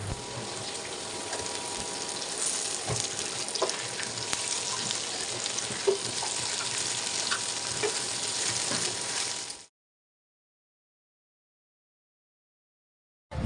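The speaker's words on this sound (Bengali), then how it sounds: "ফ্রাই প্যানে দিয়ে দিলাম কাটা পেঁয়াজগুলো একটু ভেজে নেওয়ার পরে দিয়ে দেব করলা আর আলু, সবগুলো একসাথে ভেজে নেব" Chopped onion, bitter gourd and potato frying in a pan, a loud steady sizzle with occasional stirring scrapes for about nine and a half seconds, then sudden silence.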